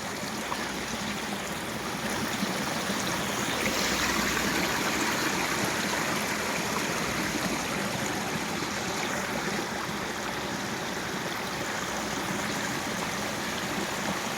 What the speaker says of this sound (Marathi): या लिकेजातून पाणी एवढा जोराने वाहत आहे की हा बंधारा जास्त वेळ टिकू शकत नाही